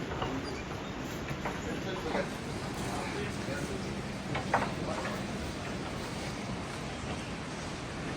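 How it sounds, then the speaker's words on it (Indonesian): A small waterfall near lodging on the Annapurna Base Camp trek makes a steady, distant rushing wash that runs unbroken, with faint voices and occasional soft knocks nearby. "Tuh ada semacam air terjun dikit."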